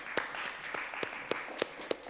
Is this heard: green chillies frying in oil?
no